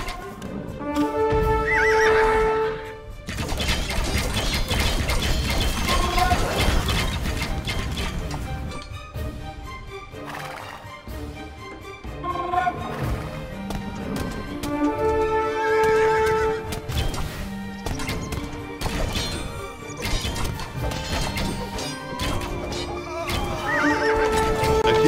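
Horses neigh and whinny repeatedly in the Age of Empires 2 game, with clip-clop hoofbeats and battle sounds mixed in, loud and close over continuous game audio.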